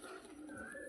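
A pigeon coos softly in one short, low, throaty call, close by.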